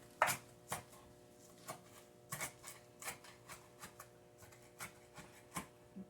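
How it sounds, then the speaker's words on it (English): A knife chops sweet potato on a cutting board in a home kitchen while turkey sausage is prepared. Close, crisp, evenly spaced chops repeat steadily at a quiet level, with no talk over them. "the back end is what's actually chopping it up"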